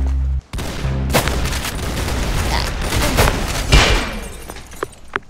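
Dense, loud video game gunfire, rapid overlapping shots and bursts filling several seconds, with a few sharper cracks near the end.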